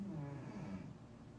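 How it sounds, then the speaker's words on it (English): A cat snoring quietly nearby, a soft low rumbling breath with a faint tonal buzz, heard alone in a quiet room. "That is my cat snoring."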